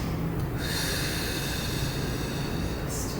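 Steady breathing during a recovery breathing exercise, a continuous airy inhale-and-exhale sound close up, holding an even level throughout the whole stretch with no talking.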